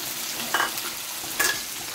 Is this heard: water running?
no